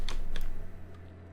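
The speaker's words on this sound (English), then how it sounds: "That was the side of the keyboard." A computer keyboard is knocked on its side, giving two sharp plastic clacks in quick succession, close and fairly loud over a low steady hum, then quiet.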